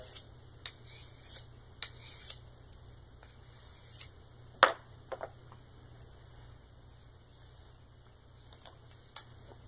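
A knife blade stroked across a sharpening stone in repeated polishing passes, dry rasping rubs at uneven intervals, close and fairly quiet, with one louder scrape midway.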